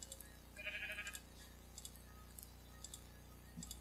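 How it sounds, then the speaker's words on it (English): Sheep bleating in a video game set on a farm, a short bleat standing out early over a quiet ambient game soundscape, followed by faint clicks and small tonal blips. "Come on, sheep. Go in the pen. In the pen."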